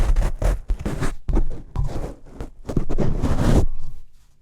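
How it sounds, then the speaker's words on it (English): A foam windscreen is pulled off a condenser studio microphone, a close, loud run of rubbing, scraping and buffeting noises with short breaks, ending in quiet. "I'm gonna take the windscreen off."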